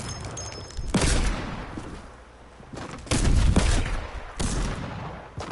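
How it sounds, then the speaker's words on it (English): Video game gunfire: loud bursts of rapid shots come in three waves, each separated by a short lull, sounding close and heavy with no speech over them. "Can you stop, like, shooting at me?"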